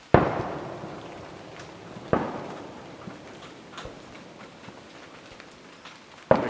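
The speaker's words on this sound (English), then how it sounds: "fireworks are going off through the trees over here" Fireworks go off through trees on a July evening, heard as a few sharp distant bangs spaced seconds apart, each one trailing a rumbling echo, with faint crackles in between.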